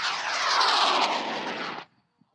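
A high-power model rocket on an L2200 motor launches at a student rocketry event, giving a loud sustained roaring burn that cuts off abruptly after about two seconds, followed by near silence and a faint click.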